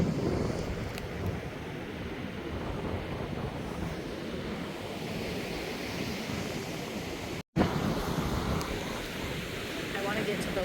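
Ocean surf and gusting wind at Flagler Beach, Florida, a steady broad roar of waves with wind buffeting the microphone throughout and a brief dropout near the end.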